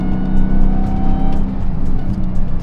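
Dodge Charger Hellcat Redeye engine running loud and close, a deep sustained growl with a rising whine.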